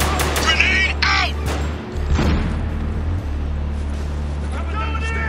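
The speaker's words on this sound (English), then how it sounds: "Grenade out!" A grenade blast and gunfire in the Spec Ops: The Line video game: dense, continuous combat noise with a deep rumbling boom midway, under shouted soldier voices and a steady low drone.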